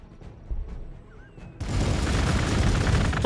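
Gunfire in the Warhammer 40k Gladius strategy game, Adepta Sororitas faction: a few soft thumps early, then a sudden loud burst of booming, crackling fire that carries on densely to the end.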